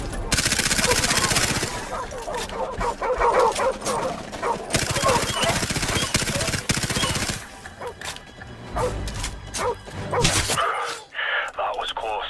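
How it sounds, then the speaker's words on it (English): A wild dog barks repeatedly amid loud bursts of automatic gunfire in the war game Call of Duty: Modern Warfare, dense and chaotic, with voices speaking over the noise. "Leave it alone. It's a wild dog."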